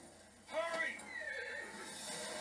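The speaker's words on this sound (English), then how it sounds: "You got a flaming horse on you" Horse neighing in the video game Metal Gear Solid V: The Phantom Pain, a drawn-out whinny rising then trailing off, with voices talking over it.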